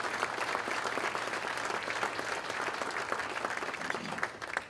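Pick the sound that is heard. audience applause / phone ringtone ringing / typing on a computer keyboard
audience applause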